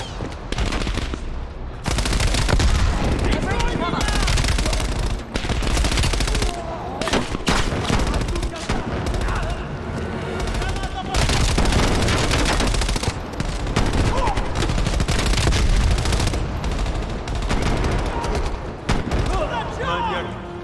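Heavy gunfire fills the Call of Duty Black Ops Cold War campaign, with loud, sustained bursts of automatic weapons and scattered explosions running almost without a break, and talk mixed in underneath.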